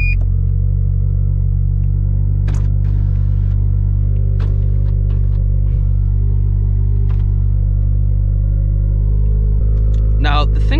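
A turbocharged Toyota GT86 drives along, its engine a loud, steady low rumble heard from inside the cabin, with faint clicks and shifts scattered over it and a brief rattle near the end.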